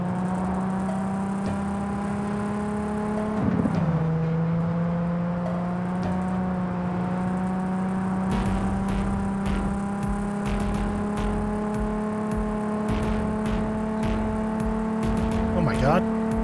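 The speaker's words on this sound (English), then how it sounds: "This fucking flying car coming out of the ground like that scared me." A flying car in Cyberpunk 2077 rises out of the ground, a steady whirring engine drone with layered tonal hum that holds throughout and swells briefly near the start, running continuously under faint background noise.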